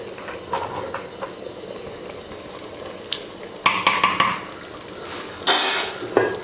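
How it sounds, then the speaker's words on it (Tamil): A pot of water coming to a boil on a home stove while biryani is being cooked, with a steady bubbling rumble under sharp metallic clinks and scrapes of a utensil against the pot. "கொதிக்க ஆரம்பிச்சிருச்சு."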